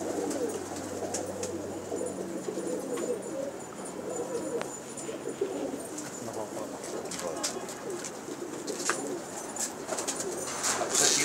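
Pigeons cooing steadily in a loft during pigeon keeping, soft repeated coos layered with light rustling and occasional chirps, fairly close, with faint voices in the background.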